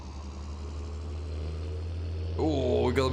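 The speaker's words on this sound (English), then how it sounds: "we got a bit more of a grunt to the engine now. Listen to her. What a beast." Farm tractor engine in Farming Simulator 19 runs at a steady low drone with a constant hum, then revs higher near the end with rising, wavering tones.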